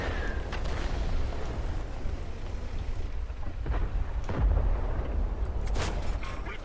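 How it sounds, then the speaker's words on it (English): In World of Tanks, artillery shells land around a Kampfpanzer 07 RH tank: deep, rumbling booms strike over a continuous low roar of engine and battle noise, heaviest toward the middle of the clip. "Here comes the artillery."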